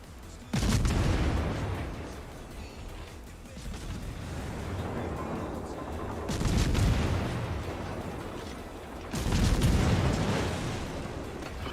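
Warship naval guns firing shells in World of Warships, three heavy booming salvos spaced several seconds apart, each a loud broadband blast trailing off into a rolling rumble.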